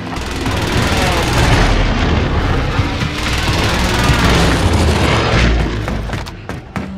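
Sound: airstrike explosions in the video game Call of Duty Warzone

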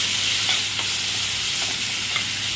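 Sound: spice masala stirred and cooking in a pan

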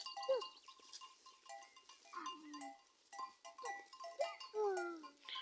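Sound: sheep on a farm

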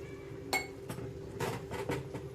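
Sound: taking the lid off a cooking pot

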